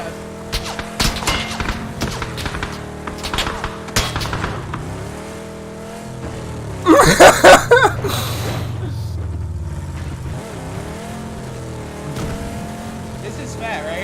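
A vehicle in the PUBG video game revs and shifts gears, its engine pitch climbing and dropping with a loud thump partway through, under excited voices from the players.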